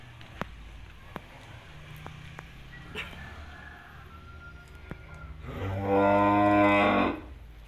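A Simmental cow lets out one long, loud moo near the end, after several seconds of quiet farm ambience with faint clicks and thumps.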